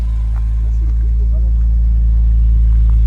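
A BMW M3 E46 fitted with a sport silencer idles close by, a loud, steady low engine rumble that holds throughout without a clear rev.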